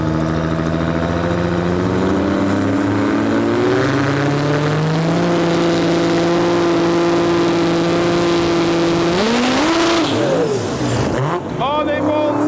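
Race cars at a drag racing elimination event accelerate hard on the track, loud engines rising together in pitch before quick gear changes and a fading, scattered finish.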